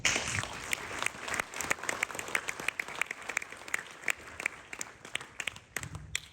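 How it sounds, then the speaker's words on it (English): Applause from a graduation ceremony audience, a moderate patter of many hands with distinct individual claps punctuating it, steady across the whole stretch at middling distance with no talk. "So a round of applause, I think, for Northampton University."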